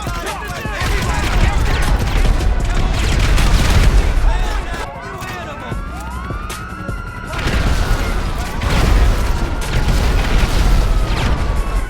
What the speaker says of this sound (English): you can hold the fire button and spam grenades all over the place